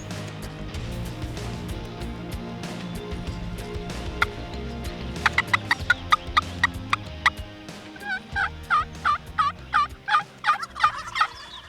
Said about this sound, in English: That bird's gobbling good.